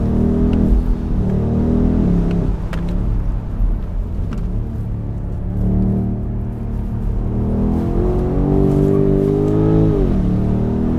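A BMW M850i xDrive convertible's engine pulls hard under acceleration, its note rising and falling in strong harmonic sweeps as the car slides into a slight oversteer, loud and continuous with no talk.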